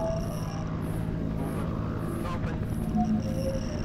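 A helicopter in a night-time alien-abduction horror video game whirs as a steady rotor drone with a regular beating pulse, holding at a constant level in the background.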